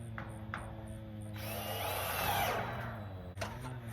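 A power drill driving screws into a metal roof panel on a wooden shed, a close, steady whir that swells to a loud sustained grind and then drops off abruptly.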